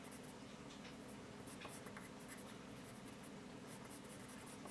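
A pencil scratches and scrapes across paper while an eye is drawn in a realistic shaded drawing, faint continuous strokes with a few brief tapping marks.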